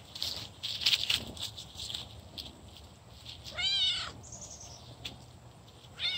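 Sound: cat, a purebred rescue cat

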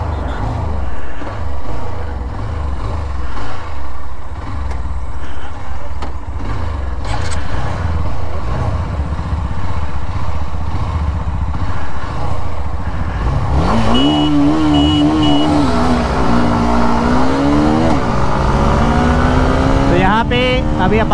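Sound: Hero Xtreme 160R motorcycle racing at top speed

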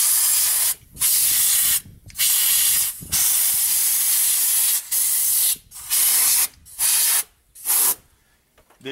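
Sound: blowing dust out between oil cooler housing and front cover

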